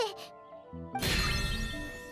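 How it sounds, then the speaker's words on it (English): A bell rings out suddenly in Genshin Impact during the Phantasmal Pals event, a bright chiming burst that starts midway and rings on loudly over a low rumble, following a quieter tonal passage. "Why is the bell ringing all of a sudden?"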